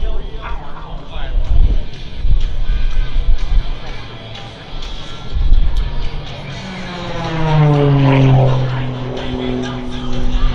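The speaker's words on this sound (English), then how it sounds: "Let's watch Stephen Covington fly" A Pitts aerobatic biplane, the SRC "Fury", performing at the 2024 MCAS Cherry Point air show, its propeller engine droning and rising in pitch as it maneuvers, heard over an announcer's voice.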